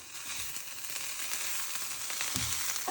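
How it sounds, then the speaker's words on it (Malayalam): Banana flower stir fry sizzles gently in a pan as it is stirred, a steady close hiss broken by brief soft scrapes and clicks from the spoon. "ഇതൊന്നുകൂടെ നന്നായിട്ടൊന്ന് ഇളക്കി കൊടുക്കുവാണ്."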